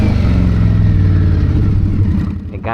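A motorcycle engine revs and rumbles up close with a strong low drone in New York City traffic, the pitch holding steady before easing off near the end.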